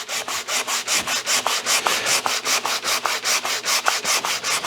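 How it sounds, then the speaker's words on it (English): Rough hand sanding of wood with a sanding block wrapped in a belt-sander belt, close and loud, a steady back-and-forth rasp of about four strokes per second with no talk. "wrapped a belt sander belt around it. Makes a really nice rough work"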